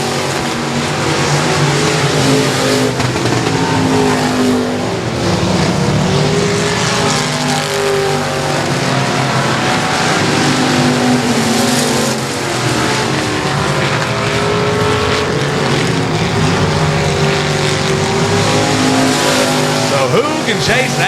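Race cars lap a dirt oval at Texarkana 67 Speedway, a loud continuous roar of engines revving and accelerating with tire squeal as cars sweep past, while an announcer talks over the racing throughout.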